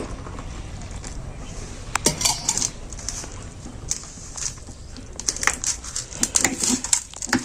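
Potato roll dough is kneaded by hand in a bowl while water is added bit by bit, giving close, irregular squishing, slapping and crinkly pressing sounds in uneven bursts.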